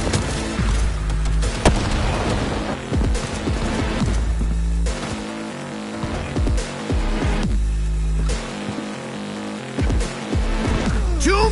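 Grenades go off in the video game Cyberpunk 2077, a series of loud deep booms layered over continuous game noise and music, with someone shouting at points.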